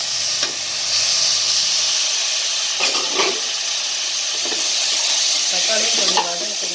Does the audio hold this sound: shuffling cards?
no